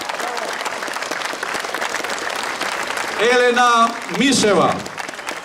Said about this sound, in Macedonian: Ве молам посебен аплауз за две млади храбри девојки.